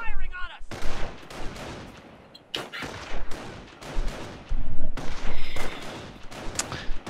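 Rifle squads trading gunfire in a video game battle: dense bursts of rifle and machine-gun shots crackle in clusters, loud and close, with brief gaps between volleys and a voice speaking faintly underneath.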